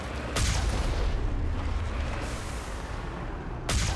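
Turrets fire at Rachni in Mass Effect, a dense rumbling barrage of booming shots with a sharp burst at the start and another at the end, loud and continuous.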